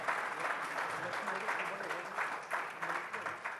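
Audience applause at an event honouring Indian Olympic champions, a continuous wash of clapping at moderate level, with voices mixed in.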